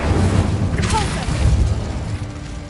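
A Repulsor spell is cast in Hogwarts Legacy, giving a dense, loud burst of whooshing, rumbling magical energy that swells early and tails off under a low game-audio bed.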